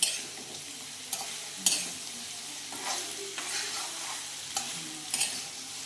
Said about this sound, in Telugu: ఒకసారి ఆయిల్ పెట్టుకున్నాం ఒకసారి పెట్టి బెండకాయ ఫ్రై చేస్తున్నాం